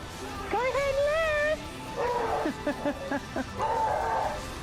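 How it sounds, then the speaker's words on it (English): Dogs bark and yip indoors in several short bursts, with a whining, rising cry at first and then a run of quick barks. Moderately loud and close. "My dogs are barking at something that's outside"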